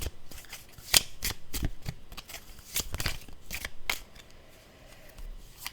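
Tarot cards being shuffled close up, a string of quick papery riffles and flicks in an uneven rhythm, fairly quiet with no talk.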